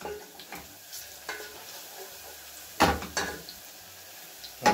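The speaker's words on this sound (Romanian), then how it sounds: "Deja usturoiul și-o schimba culoarea, nu-l prăjim foarte tare, că atunci devine amar." Garlic fries softly in a pan, a faint sizzle under a few sharp scrapes and clinks as a utensil stirs it against the metal, with no talking.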